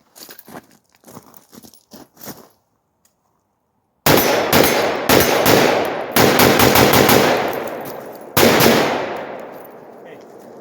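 A Delta Level Defense AR-15 rifle fires loud, close, rapid shots in three bursts that ring out with a decaying tail, after a quiet stretch of faint handling sounds.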